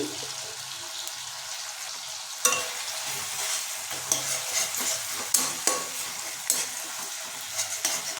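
Ginger-garlic paste frying in masala for Assamese-style katla kalia, a continuous close sizzle under repeated stirring scrapes and spatula knocks, with no voices.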